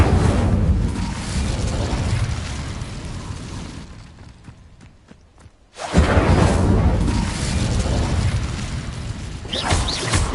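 An Incendio fire spell is cast in Hogwarts Legacy, a loud, roaring burst of fiery whooshing that fades into a brief lull of crackles before another powerful blast erupts and sustains.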